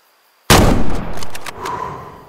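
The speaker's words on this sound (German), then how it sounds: "Ich glaube, ich schieße einfach." A single loud rifle shot fired at an animal on an African steppe hunt in Way of the Hunter breaks abrupt silence, followed by a rolling echo and faint trailing sounds.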